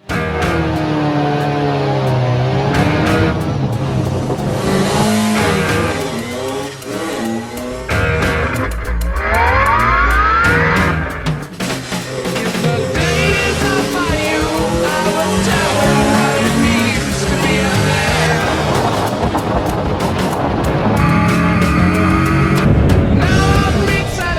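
Clubmans sports prototype race cars at Anglesey Coastal circuit roar past side by side, engines loud and continuous with rising and falling pitch as they sweep through, the noise sustained across the whole stretch.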